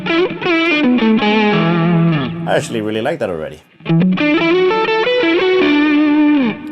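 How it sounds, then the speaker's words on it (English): An electric guitar on its neck humbucker pickup plays crunchy, lightly distorted chords through a Lil' Rat pedal. The notes ring out loud and sustained, broken by a short spoken remark in the middle. "So that's already getting us some crunch right on the humbucker."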